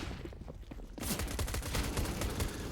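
USP pistol fire in a Counter-Strike match, a short run of close, quick sharp shots starting after a quieter opening, with game sounds around them.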